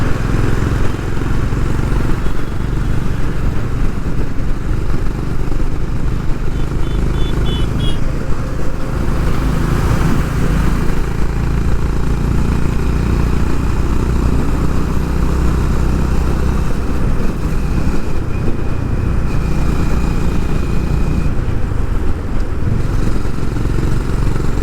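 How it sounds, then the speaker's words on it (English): A Honda H'ness CB350 motorcycle engine running steadily while being ridden, a continuous low rumble with wind noise, loud and close throughout. "You will become a fan of the sound the minute you ride this motorcycle"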